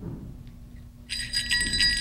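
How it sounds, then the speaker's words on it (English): A small silver sleigh bell shaken, bright metallic jingling that starts partway through after a quiet low hum and rings on steadily to the end, alone without voices. "I shook the bell. It made the most beautiful sound my sister and I had ever heard."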